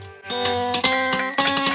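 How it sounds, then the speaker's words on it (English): A bell rings in a bright, clanging series of strikes, each tone ringing on as the next begins, loud and close with no voices. "A bell started ringing."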